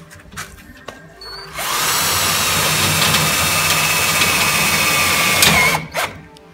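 A power drill drives self-tapping screws into a steel gate made of profile tube, whining in one sustained, loud run of about four seconds, close by, with faint handling clicks before and after.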